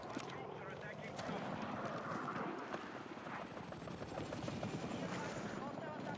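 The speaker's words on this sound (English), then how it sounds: "Enemy helo! It's my helo." An enemy helicopter in Battlefield 6 gives a loud, continuous rotor thrum and engine whine, with a voice talking over the game noise.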